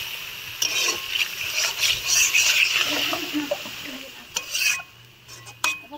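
Spice masala with pepper powder and a splash of water is cooked down in a pot at an outdoor picnic, with a spoon scraping and clinking against the metal in irregular bursts over a soft sizzle.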